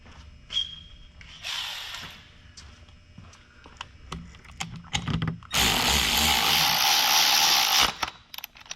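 Power tool tightening a pulley during a 7.3 Godzilla engine swap into a Crown Vic, with scattered clanks and short bursts of tool noise, then a loud sustained whirring run near the end, close up with no talk.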